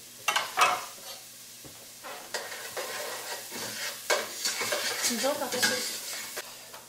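Garlic dropped into a hot frying pan sizzles and crackles, stirred with scraping and clinks of utensils at close range, the frying bursts rising and falling unevenly over about seven seconds.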